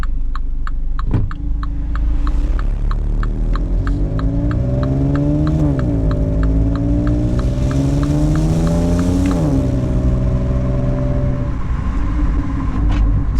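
A 2020 MINI Cooper with a 134-horsepower 1.5-liter three-cylinder engine is driven spiritedly, its engine note climbing through revs, dropping at gear changes and rising again, with a steady road rumble and no talking.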